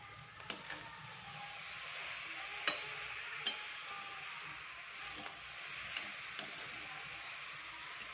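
Carrot halwa is sautéed and stirred in a pan, giving a faint, even sizzle with occasional sharp ticks from the spoon against the pan, quiet and close, with no voices.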